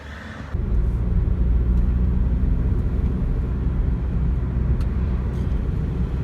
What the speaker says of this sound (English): Driving through beautiful rural Portugal this morning